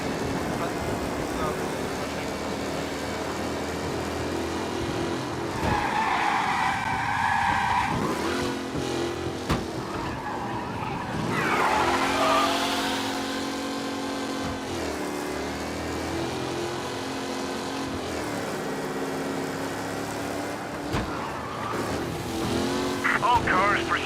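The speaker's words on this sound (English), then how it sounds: "Officers reporting a race car driving at speed through the city." Race car in Mafia: Definitive Edition speeding through city streets, engine roaring with repeated tire skids and squeals, mixed with game music and police radio voices talking over it.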